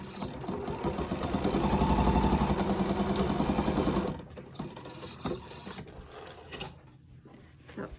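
A sewing machine runs a single straight stitch along a fabric face mask, a steady loud mechanical whir for about four seconds, then stops, leaving quieter handling clicks and rustles.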